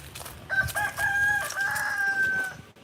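A rooster crows once in a long, loud, drawn-out cock-a-doodle-doo, fairly close, over faint outdoor background noise.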